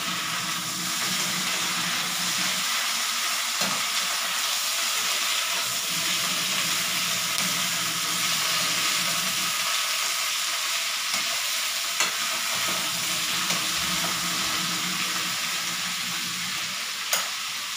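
Tofu and pork stir-fried for pulutan, a steady loud sizzle and hiss of frying filling the whole stretch, with occasional scrapes and clicks of stirring layered over it and no talking.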